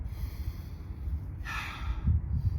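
Single deep breath during a hip exercise, a close, soft inhale-exhale with a brief airy rush in the middle, heard alone without talking.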